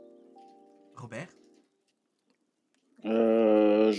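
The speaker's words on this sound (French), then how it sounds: "t'as-tu entendu un pigeon?" A pigeon coos in a short burst near the end, loud and close, after a stretch of quiet with a brief muffled noise earlier.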